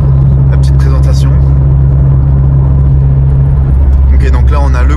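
Renault Clio 4 RS Trophy driving toward mountain roads, its engine a steady loud low rumble from inside the cabin, with speech heard over it.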